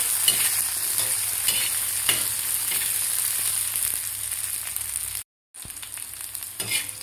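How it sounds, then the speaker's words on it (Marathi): Garlic, cumin seeds and green chillies roast in a hot pan for a spicy chilli-tomato thecha, giving a steady close sizzle broken by occasional stirring scrapes, with a brief silent gap near the end. "आता आपल्याला 1 मिनिटभर आपल्याला लसूण आणि जिरे मिरचीबरोबर भाजून घ्यायचे आहेत व्यवस्थित"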